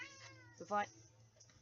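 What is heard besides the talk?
cat meowing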